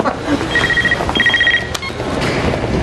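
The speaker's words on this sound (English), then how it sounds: "Hey, my phone's ringing." A telephone rings in two short bursts of rapid electronic trilling, heard under background noise and a voice talking.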